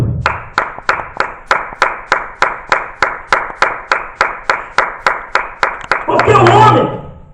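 A church congregation claps in a steady, even rhythm, close and loud, with about nineteen sharp claps before they break into a louder, denser burst of voices and clapping at the end.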